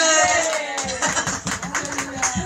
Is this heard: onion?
no